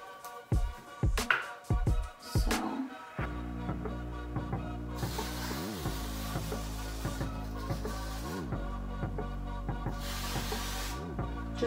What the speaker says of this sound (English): it's temporary gray concealer spray